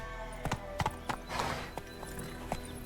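Horse hooves clip-clopping in The Witcher 3, a handful of distinct, evenly spaced clops at a walking pace over a soft ambient bed, moderately close, with a brief whinny-like tone mid-way.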